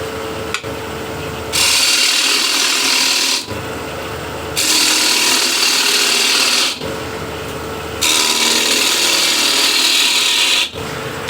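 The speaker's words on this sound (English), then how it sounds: "So I'll cut right in with the ball gouge" Wood turning on a lathe with a ball gouge cutting into a spinning blank, heard as three long, loud, rough scraping cuts over a steady motor hum, with short pauses between them.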